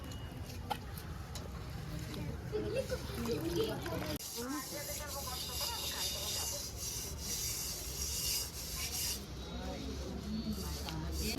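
Spinach leaves being washed by hand in water, with splashing, rubbing and swishing that runs steadily throughout while a person talks over it.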